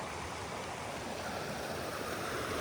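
Water pours steadily over the Peraru reservoir spillway at Vavuniya, a loud, unbroken broadband rush with no pauses, close by and heard alone with no voices.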